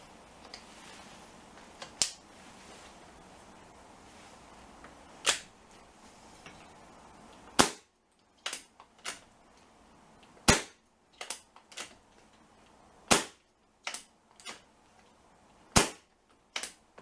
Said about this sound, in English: I'm going to fire one last group of shots for this one and call it a day.